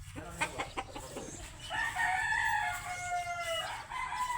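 Chickens and a rooster at a coop: a few short clucks come first, then a rooster crows loudly in a long drawn-out call, with faint background noise and no talk.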